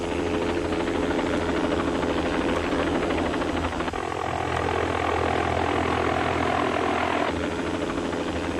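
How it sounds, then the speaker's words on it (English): A rescue helicopter makes a slow approach toward a front-yard landing zone near wires, its rotor and engine drone loud and steady throughout, shifting in tone partway through. "Within 5 minutes, the helicopter was on the scene."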